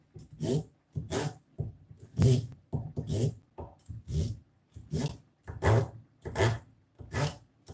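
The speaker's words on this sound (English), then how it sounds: "let me sharpen my knife a little bit." A kitchen knife is drawn repeatedly across a sharpener, about a dozen rasping strokes in a steady, even rhythm, close and distinct with short pauses between them and no talking.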